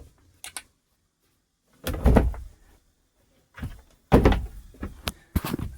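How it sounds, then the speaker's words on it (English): A camper van's companionway door being shifted: a few knocks, then several solid thunks and scraping bumps of the panel being lifted and set in place, close and fairly loud, with quiet pauses between. "Let me move the companionway door."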